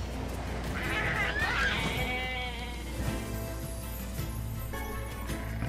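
Sheep in the video game Nier Replicant bleat a few times, wavering cries over a low steady hum, moderately faint and close.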